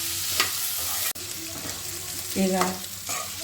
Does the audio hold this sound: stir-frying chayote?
yes